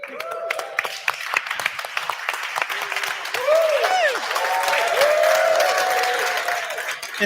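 An audience applauds to welcome a surprise panelist, Sebastian, at a Hacktoberfest-themed community coffee meetup, the clapping swelling from scattered claps into steady sustained applause with voices and cheers mixed in.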